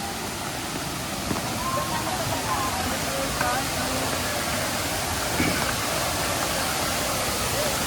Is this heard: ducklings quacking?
no